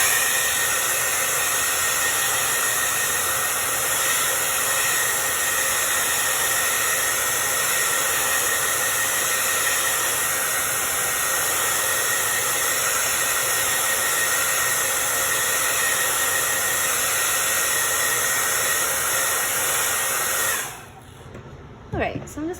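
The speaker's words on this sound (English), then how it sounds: "I'm gonna just hit it with the blow dryer quick just to make sure" Blow dryer drying paint on a truck, a loud continuous whooshing whine held steady for about twenty seconds, then switched off, leaving faint handling noises.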